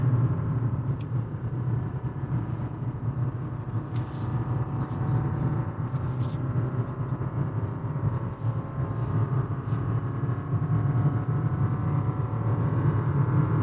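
A 2022 Jeep Grand Cherokee 4xe towing a load holds second gear at high revs, giving a steady, continuous engine drone and road rumble heard from inside the cabin, with no talking.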